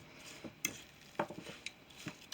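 A spoon stirring a cookie mixture of mashed banana, oats and sugar in a bowl, a few faint, soft scrapes and taps at an irregular pace in a quiet room.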